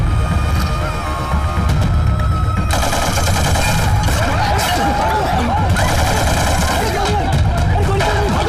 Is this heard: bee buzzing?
no